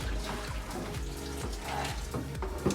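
Water poured from a tap while cooking dal fry in a home kitchen, a steady splashing stream with repeated sloshing surges, fairly close and heard without talk.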